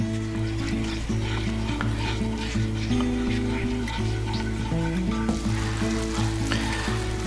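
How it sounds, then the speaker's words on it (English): Tomato gravy made with vegetable oil sizzles and bubbles in a pan over medium-high heat while a utensil stirs it steadily, with continuous frying crackle under repeated scraping strokes. "Just keep stirring as we're starting to bubble up a little bit."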